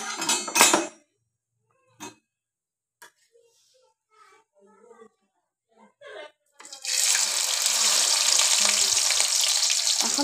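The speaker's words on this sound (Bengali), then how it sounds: "এখন পেঁয়াজটা ভাজা হওয়া পর্যন্ত অপেক্ষা করব।" Crushed onions hit hot oil with cumin seeds in a pan, starting a loud, steady sizzle that runs for several seconds after a few scattered kitchen clatters and quiet moments.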